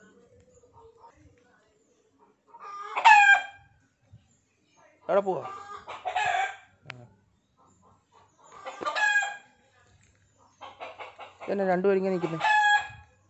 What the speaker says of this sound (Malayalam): അതാണ്ട് പൂവൻകോഴി